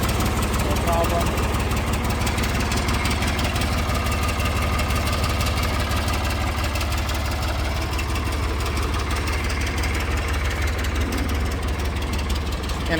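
Ford New Holland 445D tractor with its engine idling, a steady low rumble with slight knocking that holds constant throughout, close and fairly loud with no other sounds.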